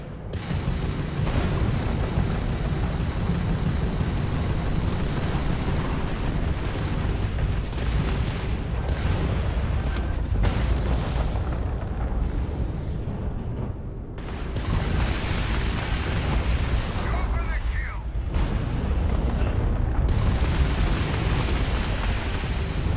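Missile launches and explosions during a spaceship battle in Starfield, a sustained, loud barrage of booms and rumbling blasts with brief lulls, dense and continuous throughout.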